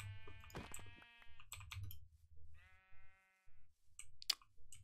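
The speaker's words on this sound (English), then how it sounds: "Look at all the sheep." Minecraft sheep bleat several times in a game world, harmonic wavering calls at close range, with a brief clicking burst near the end and faint low background hum.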